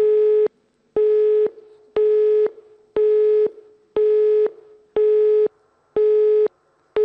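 Telephone busy tone after a dropped video link with troops in Bosnia and Herzegovina: eight loud, steady beeps, each about half a second long, repeating once per second with silent gaps between them.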